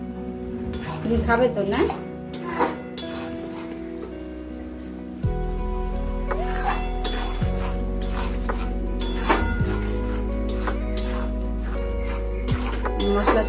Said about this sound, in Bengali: এটাকে আমরা একটু নাড়াচাড়া করব মশলার সাথে